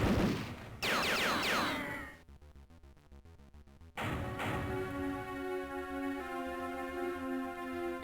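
Video-game gunfire in Zero One SP: a sharp rapid string of electronic shots in a regular burst midway, framed by synthesized game effects and tonal music before and after, with no talk.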